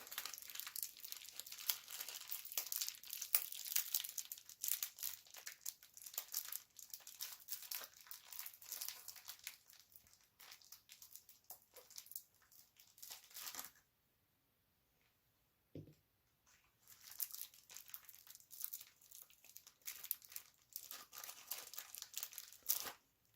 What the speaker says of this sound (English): Sorry if there's a lot of noise from these plastic bags.